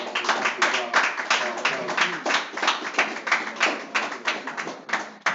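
Audience members clap for priests and officers at an Israelite school lecture gathering, a rhythmic run of fairly close hand claps in uneven bursts, with voices talking over them.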